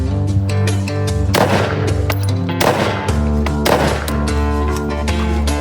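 Three 5.56x45 55-grain frangible rifle rounds fired into drywall, loud sharp cracks spaced roughly a second apart, sitting over a sustained droning musical background.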